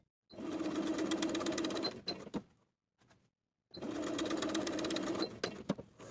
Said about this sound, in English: Then I'll take this to the sewing machine and sew basting stitches along each line